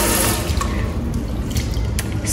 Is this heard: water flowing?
yes